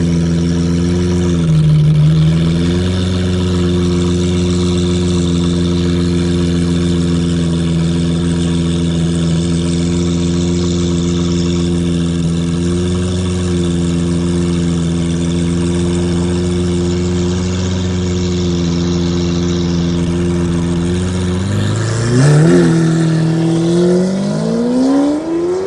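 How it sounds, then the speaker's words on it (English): A car engine idles loudly and steadily up close at a night cruise in Denver, Colorado, a rumbling tone with a brief dip early on, then a quick rev rising near the end. "It sounds like Batman's driving it."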